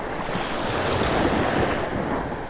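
Ocean swells wash onto a Gulf Coast public beach under steady wind buffeting the microphone, a constant close rushing surf with no voices.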